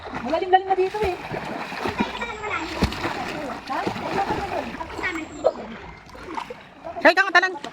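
Cold river water splashes as people jump in, several bursts of splatter and sloshing scattered among close, lively chatter and calls between them.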